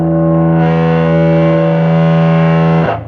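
A Gibson Les Paul Studio guitar played through an original 1985 ProCo Rat whiteface distortion pedal rings out as one loud, sustained distorted chord that holds steady for nearly three seconds before being cut off.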